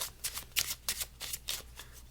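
Overhand shuffle of a deck of playing cards, a quick series of about eight crisp papery riffling bursts in uneven rhythm, close up and alone without talk.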